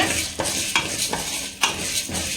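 Curry leaves roasting in a pan, stirred with a utensil that scrapes and clinks against the metal every half second or so over a continuous sizzle, close and fairly loud.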